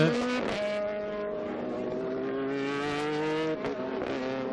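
Race car at Paul Ricard during a MEL race spinning around, heard as a continuous loud engine note with steady rising harmonics and a brief break near the end, alone without talk.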